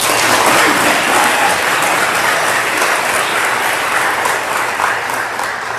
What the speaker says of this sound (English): let's all give a round of applause for Jesse